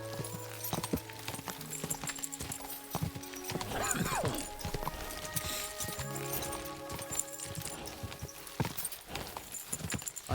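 Hooves of a horse clip-clop at speed in the video game Kingdom Come Deliverance II, with a whinny partway through, over layered game sound.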